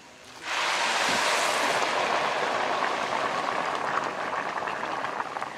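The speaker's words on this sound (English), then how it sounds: "my mom has boiling water now that she's just going to pour in there." Boiling water is poured into a pot of curry with fresh garden pigeon peas, a loud continuous rushing splash that holds steady for several seconds and then eases slightly.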